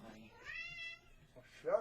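A house cat lets out a clear, drawn-out meow close by, with a person talking briefly before and after it.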